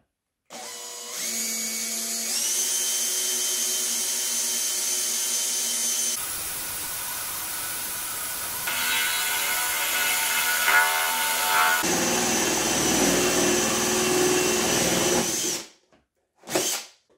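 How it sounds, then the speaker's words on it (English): A power drill whines steadily at close range while cutting ventilation holes into the side of a plastic reptile tub, changing pitch as the bit bites and loads up across several sustained passes, then stopping with a final short burst. "At this point, I'm going to cut a couple of holes in the sides."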